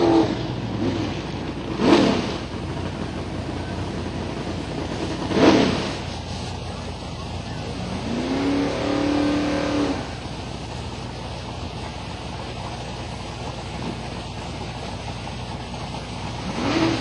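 Drag racing cars, including a Camaro, accelerate down the strip at Silver Dollar Raceway, with a few sharp engine bursts and a sustained rising roar heard at moderate distance over background crowd noise.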